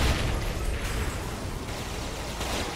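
Explosion in Saints Row The Third, a dense rumbling blast with heavy low boom that fills the whole moment and stays loud, tailing off only slightly.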